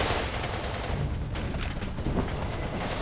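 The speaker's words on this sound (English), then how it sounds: "We are halted by enemy fire!" Dense, steady gunfire crackles throughout a Battlefield 2 Modern Combat firefight, with rapid overlapping shots forming a continuous loud fusillade and no voices.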